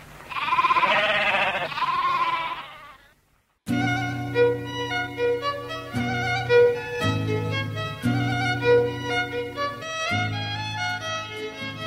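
Sheep bleat for about three seconds in loud, wavering cries, then fall silent before a bright instrumental tune begins.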